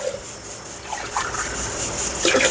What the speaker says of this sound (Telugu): నీళ్ళు కొంచెం ఎక్కువ పోసుకోవాలి